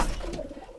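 A pigeon coos inside a pigeon house, one short, close, low murmuring call heard alone.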